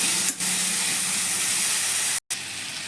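Green chilies fry with softened tomatoes in a pan. A loud, steady sizzling hiss runs throughout, broken by two brief dips, close up with no voices.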